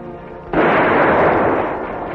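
Guns firing in a 1945 classic western film, a sudden loud blast of gunfire erupting after a brief quiet moment and rolling on as a sustained roar.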